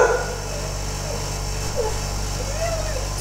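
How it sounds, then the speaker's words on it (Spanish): Dogs playing in a home bark and whimper faintly in the background with short yips and whines, under a steady hum of room noise. "Ahí mis perros juegan de fondo."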